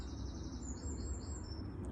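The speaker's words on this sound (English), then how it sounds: "That's a wren, by the way." A wren sings outdoors in the UK, high thin warbling phrases running continuously through the clip, fairly faint against steady low background rumble.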